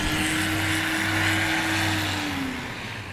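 A STOL aircraft taking off at a Swamp STOL practice event in Jennings, Louisiana, its propeller engine droning loud and steady up close, the pitch holding then sliding lower as it pulls away.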